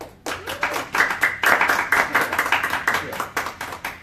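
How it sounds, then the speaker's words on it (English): Lively applause from a crowd at a business talk, dense clapping that swells quickly and holds steady for several seconds. "So with rousing applause, let's welcome Arjun Sen of ZenMango to the front."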